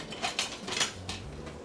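A spoon scrapes and clinks against a pot as thick mole sauce is stirred steadily, a few soft knocks and swishes close by at low volume, with no talking.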